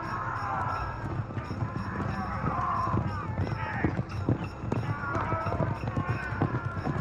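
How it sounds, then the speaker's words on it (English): Many horse-drawn chariots charge into battle, hooves pounding at a gallop amid a rumbling crowd-like din, a dense, fast thudding rhythm heard at moderate distance. "The signal for attack is sounded, and the chariots charge."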